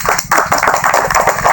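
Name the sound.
audience clapping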